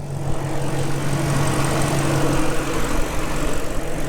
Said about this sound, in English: The motor is pretty quiet, I think.